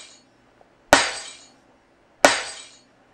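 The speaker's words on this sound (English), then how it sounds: "I used to scare a lot of bar owners with the smashing glass sound." Two loud smashing-glass hits from a Boss DRP Dr. Pad drum machine, each a sharp crash followed by a bright shattering tail, spaced about a second apart with quiet between them.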